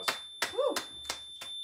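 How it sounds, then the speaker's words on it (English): A few separate hand claps ring out, about five sharp spaced slaps, while a voice sounds briefly in the middle. "Round of applause."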